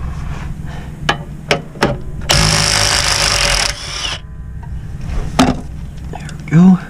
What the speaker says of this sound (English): we just got to pop this bolt off on both of them